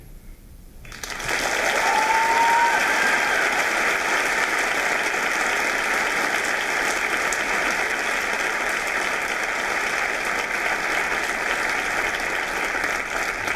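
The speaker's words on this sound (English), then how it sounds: "Another quick round of applause for all of our presenters today" Sustained applause from a large audience, starting abruptly and holding at a steady, dense clapping level throughout.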